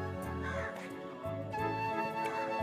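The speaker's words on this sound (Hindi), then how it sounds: "कौवा काव काव कर रहा है, बुला रहा है मेहमानों को" A crow caws repeatedly on a village morning near a temple, with several harsh, fairly close calls coming in uneven bursts over soft background noise.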